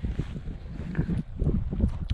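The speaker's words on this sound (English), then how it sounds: "through this gap up here, we get a strong wind" Strong gusty wind blowing across an open model-aircraft flying field, roaring steadily into the microphone with surging bursts, no voices present.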